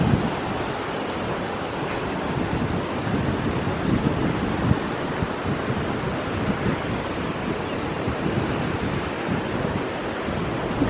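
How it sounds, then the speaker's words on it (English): Sea waves wash continuously along the Jeddah corniche in Saudi Arabia, a dense roar of surf mixed with wind buffeting the microphone, steady and loud throughout. "The waves."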